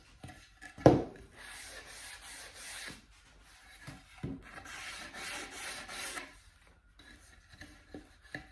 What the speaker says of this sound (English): I've just got a hand sanding block with 120 on here